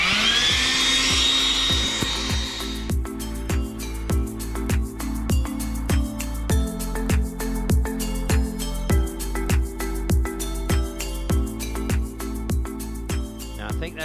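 A small Ridgid 18-volt cordless shop vacuum run as a blower to clear dust from a survey marker hole, starting with a high whine, then pulsing in a rapid repeating rhythm as it blasts air at close range.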